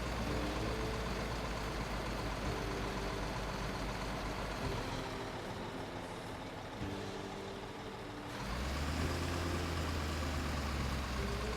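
A construction vehicle's engine idles in Construction Simulator 15, a steady low rumble that dips briefly, then revs back up louder, with no talk over it.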